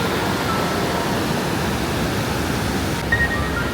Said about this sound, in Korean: 진짜 크다 이 폭포